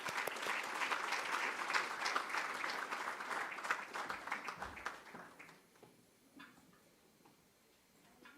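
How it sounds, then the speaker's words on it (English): Warm audience applause greets a professor at a university gala dinner, dense clapping that holds strong then thins into scattered claps and fades out over the last few seconds. "Please join me in giving her a warm round of applause."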